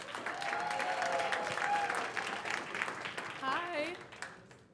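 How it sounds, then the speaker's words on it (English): An audience at a startup event applauds, a dense, sustained wash of clapping from many hands with voices mixed in, some talking and cheering audible through it. "one more round of applause for Razor Juice"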